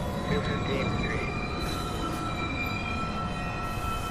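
A downtown local NYC Subway 1 train approaching the 207th Street station, a steady, loud rumble with high metallic ringing tones held throughout.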